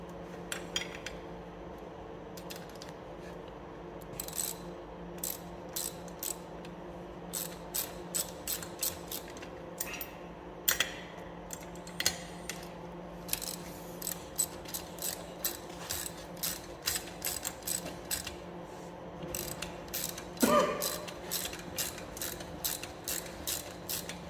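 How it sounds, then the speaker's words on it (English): A torque wrench ratchets in bursts of sharp mechanical clicks while tightening a threaded fastener, with steady repeated clicking through most of the stretch, fairly close and moderately loud over a low hum. "Torque wrench."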